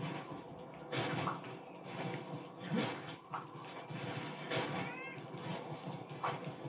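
Cat meows from a cowboy-themed video game, several short mewing cries scattered across a busy background of game music and effects.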